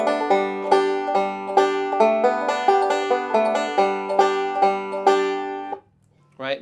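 Banjo playing a Scruggs forward-backward roll, the third-string G struck with the thumb and the roll closing with two pinches. Bright picked notes run in a quick, even rhythm, close and clear, then ring out and fade.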